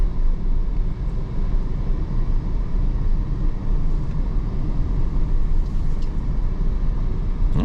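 A 2024 Audi Q8 55 Premium Plus in dynamic mode sweeping through an S-turn gives a steady, loud low engine and road roar that holds evenly from start to finish, with no talk.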